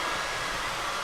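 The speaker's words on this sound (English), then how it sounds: "Then I'm going to take the blow dryer" A blow dryer roars steadily and close, drying a braided weave track, a broad constant rush of air through the whole moment with no voice.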